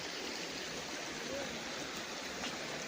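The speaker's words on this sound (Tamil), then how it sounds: "தண்ணி சத்தம், நல்ல ஃபால்ஸ் சத்தம் கேக்குது." Waterfall beside a bridge, a steady broadband rush of falling water, continuous and moderately faint, with no talk.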